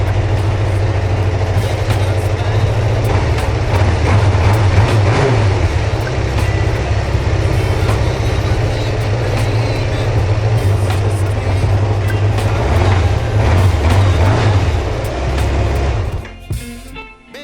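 A Kawasaki GPZ600R ZX600A Ninja motorcycle engine idles on choke at about 1500 rpm after months unused. It gives a loud, steady, close-up rumble that holds throughout and cuts out near the end.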